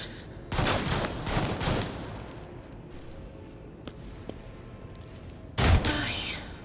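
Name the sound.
gunfire in video game Warhammer 40,000 Rogue Trader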